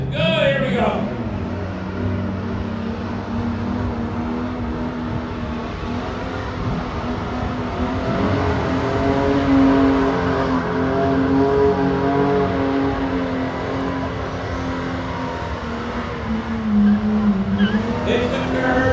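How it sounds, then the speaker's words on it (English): A Nissan 350Z at the Coventry Motofest sprint holds a long burnout through a tunnel, loud sustained engine roar and tire squeal echoing close by, with a commentator talking over it. "He's going to try and carry this burnout all the way to the other side of the tunnel."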